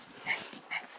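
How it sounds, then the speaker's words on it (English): A young German Shepherd, not yet full grown, gives two short, fairly faint whining yelps about half a second apart with no voices over them. "But he's got a German Shepherd. I don't think it's a full-grown dog."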